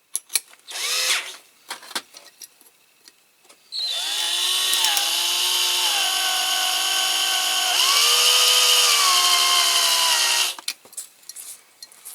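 An electric drill whirs loudly for several seconds, its pitch dipping under load, with shorter bursts and clatter before and after.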